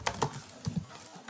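A few computer keyboard keys pressed close up in quick succession, a save shortcut typed while coding in Python, with sharp clacks over about a second and no talking.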